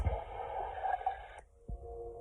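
Radio static hisses steadily for about a second and a half, then cuts off into near silence before fainter, thinner tonal hum and crackle return, with no voice heard.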